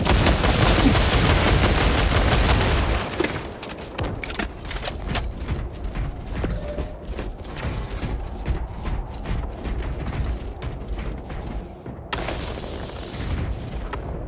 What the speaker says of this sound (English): Launching crash grenade!